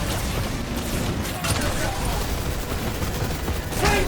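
Rapid gunfire bursts from a railgun aimed at a Triceratops in the video game Exoprimal, a dense barrage of shots with a louder burst near the end, mixed with game sounds and someone talking over it.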